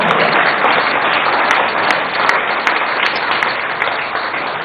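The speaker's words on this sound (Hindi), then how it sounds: "भाई ताली बजानी तो जोर से बजाओ" Audience applause at a book launch event in New Delhi with the Delhi Chief Minister present, a dense, steady wash of clapping that stays loud and even for several seconds with no voices over it.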